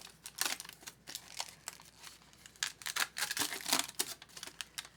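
Tin foil being peeled and crinkled off a plant-based hot dog, a close series of quiet, uneven crackling and rustling bursts with no talk.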